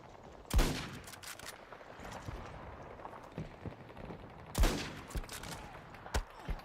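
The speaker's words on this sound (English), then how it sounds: "someone is shooting at us" Two sharp gunshots crack out about four seconds apart in a Battlefield 2042 firefight, each trailed by scattered lighter pops and distant shots over a low battlefield rumble.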